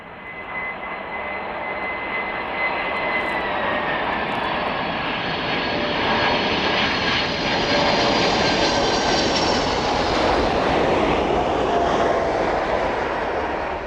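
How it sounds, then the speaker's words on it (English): An Atlas Air Boeing 747 cargo jet on approach to land at East Midlands Airport roars continuously, its engine noise swelling louder as it passes near overhead, with a whining tonal hum over broad rumble. "the Atlas Air 747 making its way down towards us"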